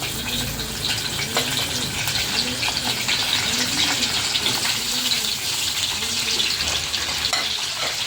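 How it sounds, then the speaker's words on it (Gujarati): Stuffed brinjals sizzle steadily in hot oil seasoned with asafoetida, a loud, continuous frying hiss with faint bubbling and no voices. "તો આપણે તેલમાં થોડીક હિંગ નાખીશું. આપણે એની અંદર આ એક કરીને રીંગણા નાખી દઈશું."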